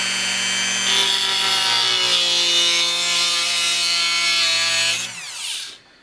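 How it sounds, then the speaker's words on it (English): Dremel rotary tool cutting a small slit down the neck of a metal cartridge case, a close, loud high-pitched whine lasting about five seconds before it winds down and stops. "I take a Dremel tool and I just cut a small slit down the side of the neck like this."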